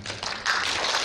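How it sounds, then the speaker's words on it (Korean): Audience clapping at a Seosan mayoral candidate debate for the 8th local elections, a dense wash of applause that swells louder halfway through and holds steady. "그 박수를 나중에 한꺼번에 치시는 걸로 하겠습니다"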